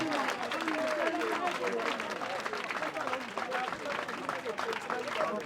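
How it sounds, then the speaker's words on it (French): An audience at a comedy show applauds a performer, a dense wash of clapping with crowd noise and voices underneath, steady and moderately distant throughout. "on peut applaudir très très fort pour Naomi Kipulu"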